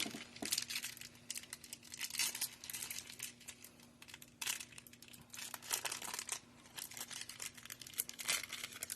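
A Yu-Gi-Oh card pack wrapper being opened, close and quiet, with repeated bursts of crinkling and tearing foil across the whole stretch, no talking.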